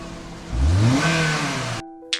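A car rolls slowly forward, its engine rising in a smooth rev from low to mid pitch, then easing off before the sound cuts out abruptly.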